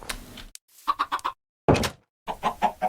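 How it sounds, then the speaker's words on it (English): Chickens in a snowy taiga video game world give a few close, clear clucks in short bursts separated by silent gaps, with a single light tap early on. "and there's my little chickens."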